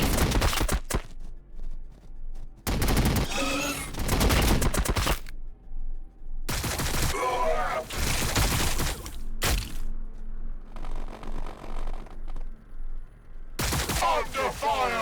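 Gunfire in Warhammer 40K Battlesector, the turn-based strategy game, rings out as several loud bursts of shots and volleys spread through the stretch, with quieter rumbling battle noise in the gaps.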